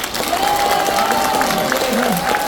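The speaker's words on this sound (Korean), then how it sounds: "우리 윤 대통령하고 바이든 대통령한테 고맙다고 박수 한번 쳐주세요" A crowd at a patriotic lecture in Korea breaks into a short burst of clapping and murmuring, steady and moderately loud, with a voice carrying over it.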